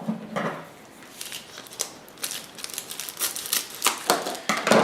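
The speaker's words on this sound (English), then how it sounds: "So I'm just going to cut off a little extra here." Scissors cutting Dyneema fabric for a cooking pot cozy: a quick run of crisp, crinkly snips and slicing strokes, close and fairly loud, repeating irregularly over a faint room hiss.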